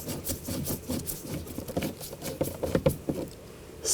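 A screw being driven and tightened by hand on the blower motor module of a 2000–2006 BMW X5, heard as close, rapid scratchy ratcheting and rubbing clicks in short bursts.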